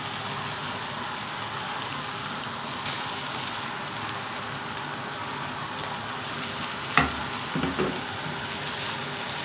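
Minced meat for qeema samosa filling frying in a pan with a steady, close sizzle throughout, broken by a couple of brief clatters near the end.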